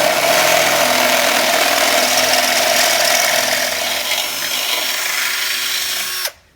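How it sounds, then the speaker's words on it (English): A power drill fitted with a 31/64 bit bores steadily into metal on a Honda Cub C70, a loud continuous whine with a faint high tone that holds for about six seconds, then cuts off abruptly. "I've got the 31/64 drill bit plugged in, and now I just need to attack."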